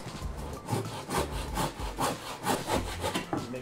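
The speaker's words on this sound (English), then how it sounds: "We use the bench hook to do the cut, and we use the handsaw" A handsaw cuts wood held on a bench hook, with rhythmic back-and-forth rasping strokes, about six or seven close, loud passes with no talking.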